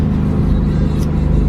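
Hot Rod cars rolling out of a Hot Rod Power Tour event in the rain make a steady, close engine rumble with idling and low-speed driving throughout, with no pauses.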